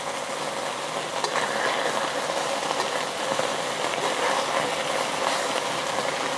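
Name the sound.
chicken searing in a pan for chow mein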